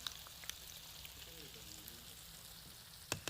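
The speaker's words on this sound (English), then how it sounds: "I'm going to fry them 3 at a time." Scoops of batter frying in hot oil three at a time give a steady, soft sizzle with faint crackles and a few sharper pops near the end, quiet and close, with no talk over it.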